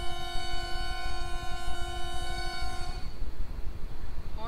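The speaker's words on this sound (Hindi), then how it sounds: "ट्रेन स्टार्ट होने वाली है, हॉर्न बजा देता हूं मैं।" A locomotive horn on an Ahmedabad–Abu double-decker express in the MSTS train simulator sounds one long, loud, steady chord for about three seconds, then cuts off and leaves a low engine rumble.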